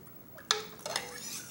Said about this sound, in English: Let's get this stirred up good.